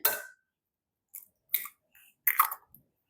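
Egg being cracked and its shell handled while making spinach and cheese stuffed shells: a sharp crack, then a few short, quiet clicks and taps with silence between them, close to the mic.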